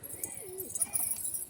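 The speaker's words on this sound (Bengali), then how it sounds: "লালদুম, কালদুম সব জাতেরই পায়রা রয়েছে" Pigeons of Laldum and Kaldum breeds give a few soft cooing calls close by, one low warbling coo standing out, over a faint rustle of birds feeding outdoors.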